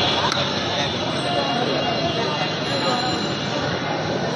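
A metro train runs overhead at Dhaka University metro station, a loud continuous rumble with high wheel and rail squeal sustained throughout, heard from street level below, with possible faint voices.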